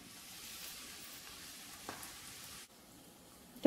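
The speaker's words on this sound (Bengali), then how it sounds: "তো উল্টিয়ে পাল্টিয়ে ভেজে নিয়েছি" Egg-based snack frying in hot oil, a steady soft sizzle running throughout at moderate volume, briefly dipping quieter before a sharp clatter at the end.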